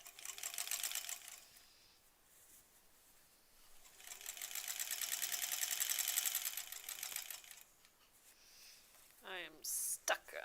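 Sashing for a granny square quilt goes through a sewing machine in two bursts of steady whirring, with a quieter pause between them and soft handling noises at the end.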